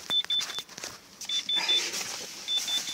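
A car's electronic warning chime sounds in short repeated high beeps, in clusters with gaps, while the gear-lever area is being dismantled. Clicks and handling noises from the work come through close by.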